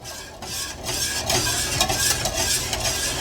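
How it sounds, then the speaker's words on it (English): From-scratch vanilla pudding mixture bubbling in a pot while being stirred, giving a continuous close hiss and soft bubbling with faint spoon scraping. "So while this is going on, we need to keep on stirring."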